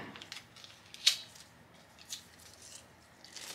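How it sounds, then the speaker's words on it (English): A price sticker is peeled off a cheap dollar-store Believe sign, giving a quiet close crinkle with one sharp snap near the start and a few fainter tugs afterward. "Just going to peel that sticker off"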